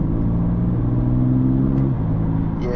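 A BMW or VW with a dual-clutch gearbox accelerates, its engine droning steadily loud and close with rising harmonic tones, then a quick gear change drops the pitch near the end; no speech over it.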